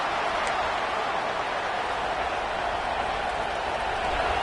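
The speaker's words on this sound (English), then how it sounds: "listen to this crowd noise. This stadium is vibrating." A packed football stadium crowd in a video game roars as a constant, dense wash of noise, loud and unbroken from start to end, with no clear talk on top.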